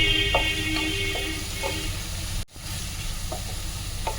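Grated onion and four green chillies fry in hot oil for a traditional Bengali shol fish curry, giving a steady, loud hiss with faint stirring taps and a brief dropout partway through.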